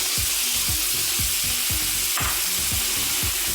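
Lamb chops sear loudly in a pan with salted butter and minced garlic, a steady dense sizzle broken by a regular series of low thumps roughly every quarter second, with no talking.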